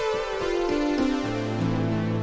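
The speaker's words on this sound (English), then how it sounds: "we've got this lead synth sound in Omnisphere, which sounds like this." Bright 80s-style lead synth from Omnisphere playing a slow, sustained melody over a droning, buzzy tone, steady and upfront with no voices.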